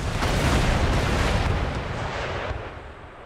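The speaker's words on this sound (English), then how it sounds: "Rockets away" Rocket artillery volleys in the battle game Empire: Total War roar out as a loud, continuous rumbling blast that holds for a few seconds and then slowly fades, with no voices present.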